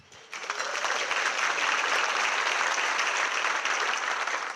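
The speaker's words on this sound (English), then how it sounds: "Please join me in a round of applause." After a brief quiet moment, an audience at a city State of the City address breaks into applause for an introduced state senator, the clapping swelling quickly and holding steady and dense.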